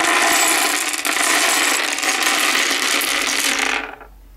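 A pile of D&D dice pours out in a loud, dense rattling clatter that runs for several seconds before cutting off into silence.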